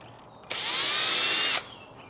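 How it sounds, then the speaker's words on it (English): A power drill whirs loudly for about a second at steady high speed, starting and stopping abruptly, with quiet room tone around it. "I'm going to drill one screw hole here"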